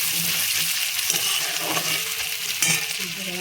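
Potatoes, onions and spices are stirred and fried in a pan, giving a steady sizzle with scraping strokes and occasional light clinks close by.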